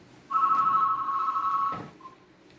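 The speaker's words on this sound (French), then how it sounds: "mon téléphone sonne" A phone rings once: a steady electronic tone held for about a second and a half, loud and close, then cut off with a short faint chirp after, with no voices.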